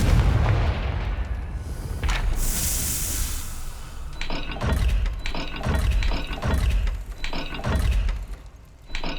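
In Hogwarts Legacy, a Confringo spell blast bursts out amid heavy rhythmic mechanical clunks and ratcheting clicks, a booming, grinding sequence with repeated low thuds and no speech.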